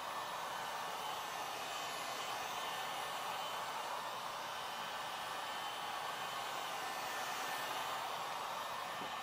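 A hair dryer blows steadily at close range, a constant whooshing hiss that holds the same level throughout with no voices.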